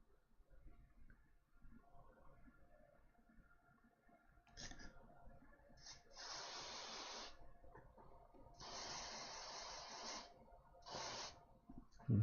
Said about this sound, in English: Let's pop some freeze spray on it.